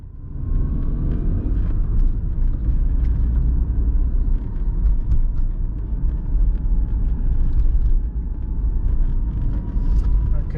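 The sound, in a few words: car driving through Amsterdam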